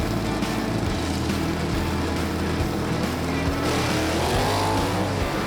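Gasser drag race cars roar down the strip at Knoxville Dragway, a loud, continuous engine drone with rough rumbling that shifts slightly as the cars accelerate away.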